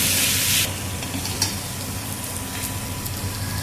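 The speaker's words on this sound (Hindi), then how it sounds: "अब आलू को डाल के भूनेंगे थोड़ी देर।" Potatoes frying with masala, tomato and salt in a pan for a dhaba-style cauliflower and potato dish, a steady close sizzle with faint stirring scrapes, loudest in the first half-second and then settling to an even hiss.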